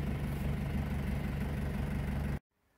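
An Isuzu 4JX1 diesel engine idles with a steady low rumble and even loudness, then cuts off abruptly, leaving near silence.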